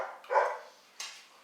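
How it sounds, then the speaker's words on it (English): A 100-pound Rottweiler barks outside, two short separate barks about half a second apart, the first louder and fuller, heard at a moderate distance with no talk. "Got a 100-pound Rottweiler outside."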